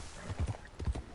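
Horse hooves clip-clop in Red Dead Redemption 2, a short run of soft, close thuds in two quick pairs as the horse walks.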